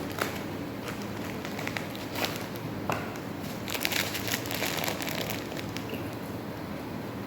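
A gelatin packet being opened by hand, its plastic wrapper crinkling and crackling in close, irregular bursts throughout.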